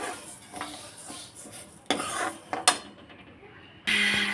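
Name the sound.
lightly frying and stirring moong dal in a pan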